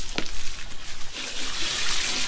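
Water from a hose sprays onto a truck's engine bay, a steady hissing splash that swells louder toward the end, close by with no talking.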